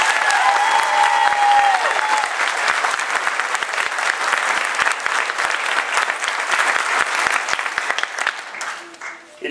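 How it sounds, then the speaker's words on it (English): A large graduation ceremony audience applauds steadily for nearly ten seconds, a dense, loud wash of clapping that tapers off near the end. "let's give Gary and Ralph another round of applause."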